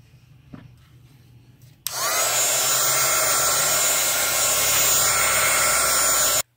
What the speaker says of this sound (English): It is dry because I used a heating tool to dry it for the most part